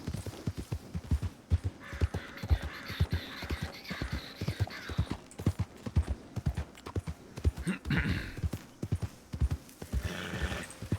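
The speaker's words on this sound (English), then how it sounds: "Oh, there's a bunch of horses, but nobody here" Several horses' hooves clip-clopping on ground in the Red Dead Online WildRP game, loud irregular overlapping beats from multiple animals, with occasional neighs and whinnies breaking through.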